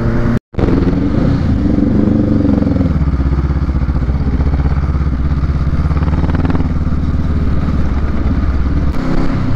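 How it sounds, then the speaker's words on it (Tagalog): An inline-four Honda CB motorcycle engine runs steadily and loudly up close, a deep rumbling drone with a brief cutout near the start, no talking. "Ganda ng tunog. Inline 4 CB."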